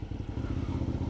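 A Suzuki V-Strom motorcycle rides off-road, its engine making a close, steady low rumble with rapid rhythmic pulsing and light clatter from the terrain.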